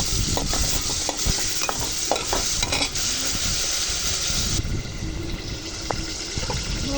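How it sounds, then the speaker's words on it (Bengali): Meat added to a pot and stir-fried for khichuri, a loud continuous sizzle with scattered spoon scrapes and clinks, the hiss dropping somewhat after a few seconds. "খিচুড়ির জন্য কষানো শেষ, এখন এখানে মাংস দিয়ে দিলাম।"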